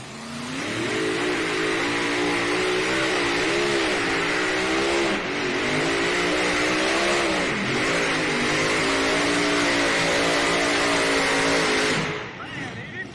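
Mini modified pulling tractors roar at full throttle down a dirt pulling track at a state fair truck and tractor pull, a loud sustained engine drone with wavering pitch for about twelve seconds, an announcer talking over it, then cutting off abruptly.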